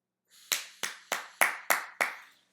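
Six sharp claps ring out in an even rhythm, bright and close, as if picked up on a phone held in the middle of a crowd, with a brief rustle before them and no voices.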